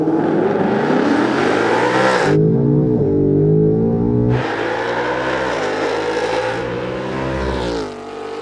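A 2019 Mustang GT launches down a drag strip, engine note rising loud and strained through a gear change, then climbing again before fading slightly near the end, with no talking.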